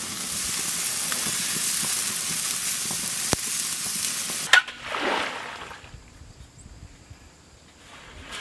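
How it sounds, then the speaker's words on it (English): Pork and alligator sausage sizzles as it cooks, giving a dense, steady frying hiss that cuts off partway through and leaves quieter outdoor background sound. "Pork and alligator sausage cooking."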